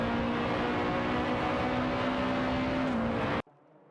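Racing car engines in a video game race between a Peugeot 407 and an Alfa Romeo 156 GTA, a loud sustained engine drone with a steady tone that holds, then cuts off abruptly.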